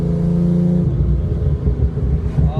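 A turbocharged car engine at wide open throttle, loud and close, a continuous droning roar with shifting pitch throughout.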